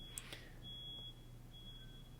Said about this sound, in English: somebody's fire alarm is going off